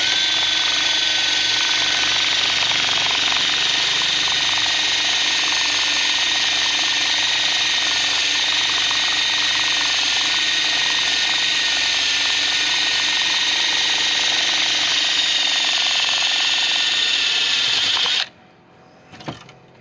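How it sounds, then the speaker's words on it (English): An electric drill fitted with a steel wire brush scrubs old sealer out of a van's chiseled gutter. It gives a continuous loud, close whirring and scraping for almost twenty seconds, then cuts off, followed by a brief knock. "Now I have a drill and a steel brush."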